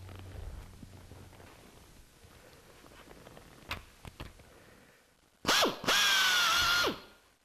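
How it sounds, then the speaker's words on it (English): A power drill bores up through aluminium fuselage parts of a Zenith CH701 kit aircraft, from the floor into the lip, in two loud bursts of about a second each, with a few sharp clicks before. "drill from the floor up into the lip"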